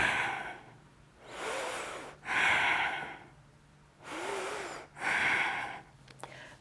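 Slow, deep breaths during a yoga session: four long, soft inhale-exhale pushes spaced a few seconds apart, close and quiet with no talking over them.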